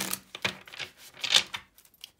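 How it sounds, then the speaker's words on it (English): Tarot cards being shuffled by hand, a quick run of close, crisp papery riffles and flicks in short bursts, fading out toward the end, with no talking over it. "One more good shuffle."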